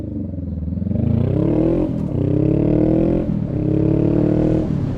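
A motorbike pulls away from a stop after lane filtering, its engine revving loudly and close as the pitch climbs through two or three quick gear changes.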